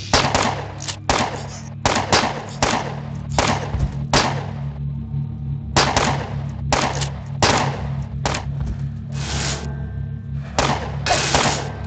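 Security auto turrets fire in the video game UnderRail, a loud series of rapid gunfire bursts separated by short pauses across the whole stretch.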